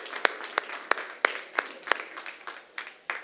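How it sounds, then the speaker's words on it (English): A small audience at a youth summit claps in a slow, fairly even rhythm, with distinct individual claps repeating roughly every third of a second throughout. "A huge round of applause, guys."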